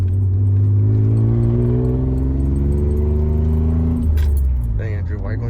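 A 1985 Nissan 300ZX, an old race car, drives off on a test drive with a steady engine drone that shifts pitch as it pulls away. Keys jangle and people talk over the engine near the end.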